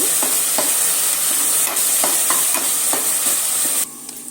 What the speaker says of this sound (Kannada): ನೋಡಿ, ಚೆನ್ನಾಗಿ ಫ್ರೈ ಆಗಿ ಎಣ್ಣೆನೂ ಬಿಟ್ಕೊಂಡಿದೆ.